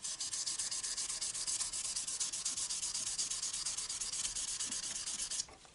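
Sandpaper rubs steadily over the nickel silver frets of a Santa Cruz OM acoustic guitar, a close, rhythmic rasping of even back-and-forth strokes that stops abruptly just before the end.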